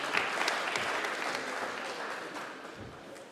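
Moderate clapping from an audience at a South African taxi association and training event, a few sharper claps early on then a thinner, fading patter over about three seconds.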